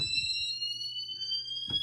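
A fire alarm beeping from a garage monitor module, a steady high electronic tone that runs throughout over faint low background knocks, with a brief thud near the end.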